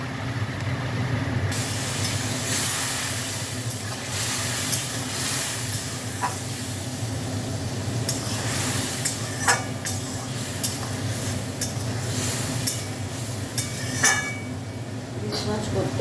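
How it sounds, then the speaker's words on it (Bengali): Spice paste with salt for a hilsa fish curry with aubergine and potato fries in a pan, sizzling and hissing steadily. Spoon scrapes and stirring clinks break through now and then. "একটু মশলাটা কষে নেবো"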